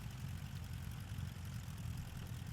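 A small single-engine A1R Mini Imp light aircraft in Microsoft Flight Simulator drones with a steady, low engine hum that holds even and continuous throughout, with no talk over it.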